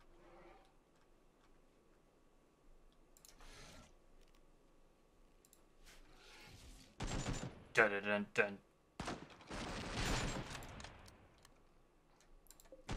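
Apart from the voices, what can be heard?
gunfire from the video game RimWorld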